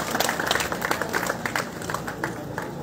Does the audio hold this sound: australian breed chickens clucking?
no